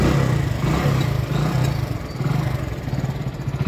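A motorcycle engine idles nearby with a steady low, pulsing putter, alone with no talk.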